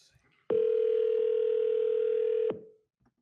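A telephone ringback tone sounds while a call is being placed: one steady, loud two-second tone that starts and stops abruptly, with near silence before and after.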